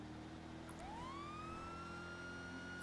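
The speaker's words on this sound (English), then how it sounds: "I hear the sirens" A fire department siren in the video game GTA V rises in a single clear wail, steady and moderately distant, over a low engine rumble with no talk.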